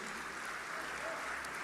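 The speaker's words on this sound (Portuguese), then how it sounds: "Você pode aplaudir Jesus por isso?" Church congregation applauding during a sermon, a brief steady wash of many hands clapping, heard at a distance.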